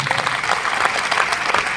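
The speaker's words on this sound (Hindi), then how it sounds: "जोरदार तालियां बजता है" Loud, dense applause from a large crowd at a direct-selling company event in a New Delhi stadium, sustained and steady throughout without pause.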